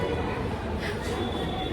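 A metro train running, heard from inside as a steady, continuous rumble and rattle with a brighter swell partway through, fairly loud and unbroken throughout.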